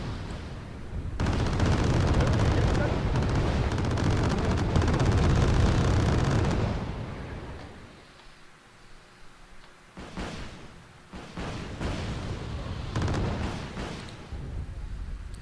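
Artillery fire in the Wargame AirLand Battle video game, heard as a dense, loud rumbling barrage for several seconds, followed by scattered sharper blasts and cracks.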